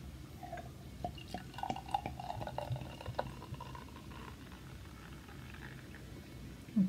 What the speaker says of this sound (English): let's pour her out a little bit